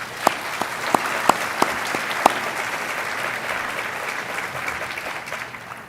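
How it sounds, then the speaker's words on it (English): Applause from a conference audience fills the hall steadily and densely, with a few sharp individual claps standing out early before the clapping gradually thins toward the end. "please join me in the meantime in giving them another huge round of applause"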